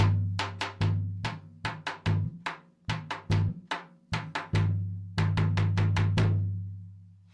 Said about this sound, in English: This is the bombo.